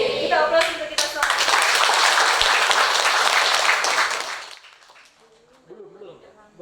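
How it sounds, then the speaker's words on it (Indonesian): An audience at the closing of the Pena Toraja festival breaks into loud, dense clapping that follows a brief spoken cue, holds steady for several seconds, then fades out as voices continue talking. "Oke, kita aplaus untuk kita semua."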